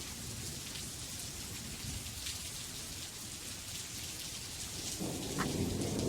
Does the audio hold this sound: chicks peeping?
no